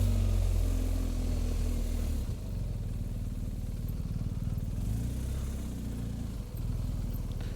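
A 2023 BMW R 1250 GS boxer-twin motorcycle engine hums steadily and close while riding, a low continuous drone that dips slightly partway through, with no talk over it.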